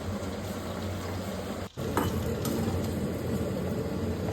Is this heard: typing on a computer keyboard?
no